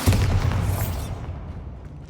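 Bombarda blasting spell detonating in the Hogwarts Legacy video game, a loud booming explosion with a heavy low rumble that decays over about a second into a lingering tail.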